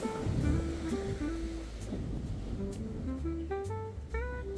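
Sea waves wash onto the shore at Bolinao, Pangasinan, as a steady, fairly faint rushing surf that is partly masked by a melodic music track playing over it.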